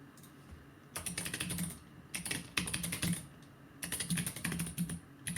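Bursts of rapid typing on a computer keyboard, three clustered runs of clicky keystrokes separated by short pauses, close and fairly quiet.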